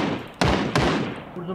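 Two sharp gunshots from the battle royale game Ring of Elysium crack out a few tenths of a second apart over a steady game background, with faint talk underneath.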